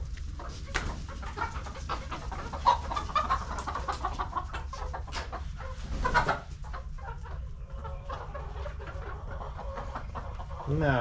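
Backyard chickens clucking and squawking in short, irregular bursts, fairly close, with scattered rustling and brief voices between the calls.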